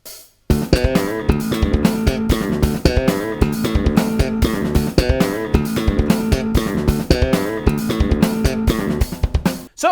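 Bass guitar plays the first verse of a song in 19/16, a dense run of rapid, evenly struck notes with a driving, busy rhythm, loud and close, with drums or accompaniment sounding alongside throughout.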